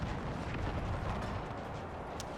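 Artillery fires canister shot on a battlefield in Empire: Total War 2, a continuous low rumbling roar of guns and blasts with small pops and crackles, dense and loud throughout.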